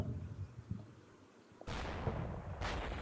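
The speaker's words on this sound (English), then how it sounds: "Yeah, more mortar bombs." Mortar bombs land in a wargame. After a quiet, low rumble, two dull, muffled booms hit about a second apart, moderately distant and not very loud.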